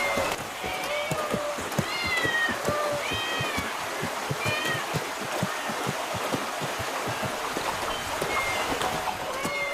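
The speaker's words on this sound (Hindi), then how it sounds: "ये इतनी सारी बिल्लियां यहाँ क्या कर रही हैं?" Many cats meow repeatedly in a city setting, overlapping rising calls scattered throughout over a rhythmic clatter and busy background, moderately near.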